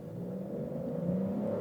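A Chevrolet Onix Premier 2023 launches hard from a stalled start with stability control in standard mode, a steady mid-pitched engine roar holding loud and close throughout with no talk.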